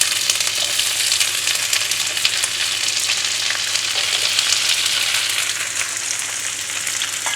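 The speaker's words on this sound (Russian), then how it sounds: "Жарим на медленном огне." Steady, continuous sizzling of raisins, cherries and dried apricots frying in butter in a pan over low heat, a dense crackle throughout with no talking.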